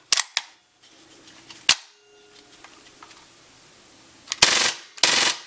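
MP9 blowback air gun with folding stock firing in quick bursts: sharp snapping shots with mechanical clacks, a pair at the start, a single crack, then two dense rapid volleys near the end, close and loud.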